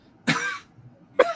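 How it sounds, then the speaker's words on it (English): A person coughs twice, close and clear: one longer, rasping cough followed after a short pause by a second, sharper one, with nothing else around. "I'm coughing."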